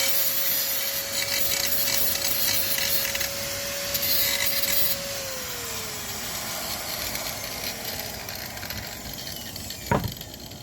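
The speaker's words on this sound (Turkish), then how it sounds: "İçerideki çapakları alıyorum." Metal filing and scraping while deburring the inside of a homemade movable metal vise, a steady rasping texture lasting throughout with a constant machine hum underneath and one sharp knock near the end; no one speaks.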